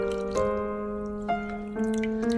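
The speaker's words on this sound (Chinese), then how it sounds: "把它装入大一点的碗中，然后倒入清水清洗一下，洗去表面的淀粉" Clean water runs into a large bowl of sliced potatoes to rinse off the starch, a close trickling pour with a few splashy drips and a slowly shifting liquid tone, no voices present.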